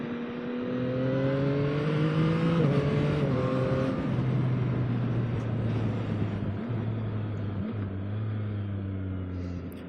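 A 2024 Yamaha MT-09 motorcycle engine revs and drones nearby, its pitch stepping abruptly through quick-shifter gear changes before settling into a steady cruising hum.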